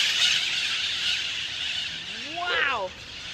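Wild macaws calling loudly in Florida, a harsh rising-and-falling squawk standing out near the end over steady background noise and hiss.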